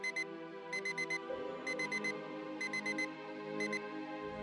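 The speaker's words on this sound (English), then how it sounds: "You jolt awake, slapping your hand down on your phone to silence your alarm." Phone alarm ringing in the game Choices: Kindred, five bursts of rapid high electronic beeps in a steady repeating pattern over a soft music bed.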